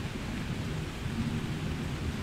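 A thunderstorm with rain and low rumbling thunder, a steady dense wash of rainfall under a continuous deep roll, moderately loud and without voices.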